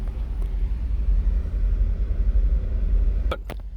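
A 2013 Mercedes SL550 Bi-Turbo driving along, heard as a steady low engine and road rumble from inside the car, with a couple of brief sharp clicks near the end and no talking.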